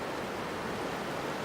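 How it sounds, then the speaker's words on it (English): Roaring whitewater of a bigger waterfall on the Yulong River in Yangshuo, China, heard while rafting toward it: a steady, loud, broadband rush that fills the short moment without a break. "And we hear another waterfall."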